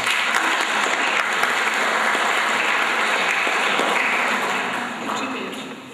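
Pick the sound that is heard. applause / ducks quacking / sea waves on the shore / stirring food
applause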